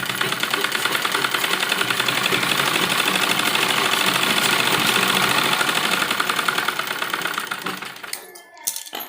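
A sewing machine runs a steady, fast stitching rattle while sewing a double seam on a net lehenga blouse, continuous and close for most of the time before stopping with a few handling clicks at the end.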